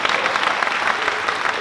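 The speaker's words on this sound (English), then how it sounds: "a round of applause for The Big Blue Marble and Rick Berman." Audience applause fills a convention hall at a Star Trek panel at FanX 2024, a dense, loud, steady clapping from a large crowd that continues throughout.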